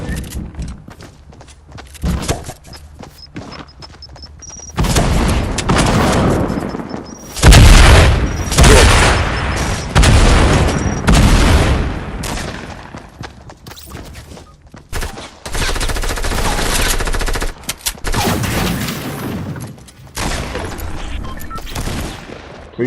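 Rocket launcher blasts and bursts of gunfire in a squad battle-royale video game, with dense, loud, overlapping explosions and rapid shots rolling almost continuously, and brief quieter gaps between barrages.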